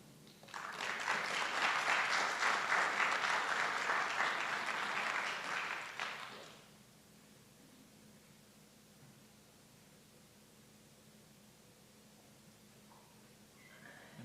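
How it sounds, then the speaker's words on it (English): An audience at a school board meeting claps in a steady burst of applause lasting about six seconds, then fades into quiet room tone. "One more round of applause for our talented students and retirees."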